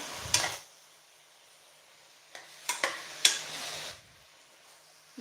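Amaranth greens stirred in a little hot tempering oil, with a soft sizzle and several scraping stirs in short bursts separated by quiet gaps.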